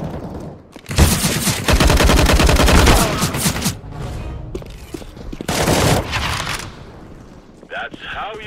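Loud, dense bursts of automatic gunfire from a CS:GO deathmatch, in two long volleys separated by a brief lull, with a voice talking in between.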